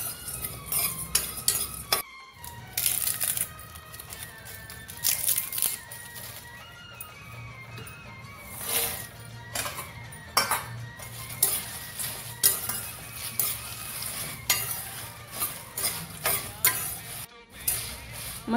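Spices dry-roast in a pan for shev bhaji as a spoon stirs and scrapes against the metal, with intermittent close clinks and scrapes over a faint sizzle.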